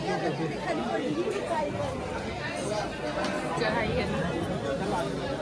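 Pilgrims queue at a temple in Varanasi amid a dense, steady hubbub of many overlapping voices, a continuous close crowd murmur with no single voice standing out.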